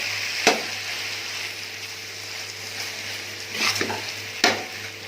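Dal keema being stirred and fried in a pan, a soft steady sizzle broken by a few sharp spoon knocks against the metal, heard close and quiet.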